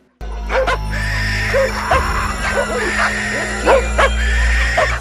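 In a scene from the film The Tommyknockers, a dog acting strangely barks and yips repeatedly in short, close bursts over a low rumbling background.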